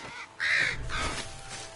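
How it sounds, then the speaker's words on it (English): Vultures in the video game Moss giving harsh, rasping caws, with two or three quick calls in close succession that sound near and fairly loud against a quiet background. "Oh, geez, stupid freaking birds. Vultures."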